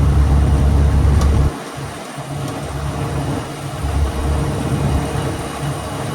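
A 1964 Land Rover Series IIA drones along at about 40 mph with a heavy, low engine rumble that drops out briefly during a gear change, then picks back up at a steady cruise.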